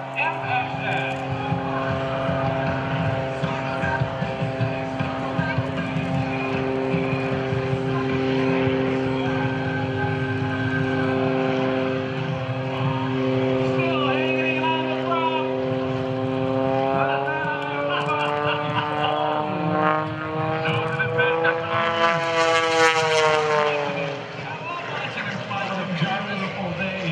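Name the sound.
aircraft flying at Blue Angels Homecoming airshow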